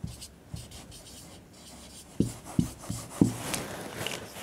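Pen or marker writing a word on a surface during a Bengali SSC algebra lesson, a few short scratchy strokes clustered near the end, close and fairly quiet, with no talk.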